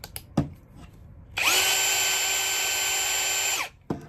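A power drill whirs steadily for about two seconds while its chuck is tightened, then spins down; a couple of sharp clicks come just before and after it.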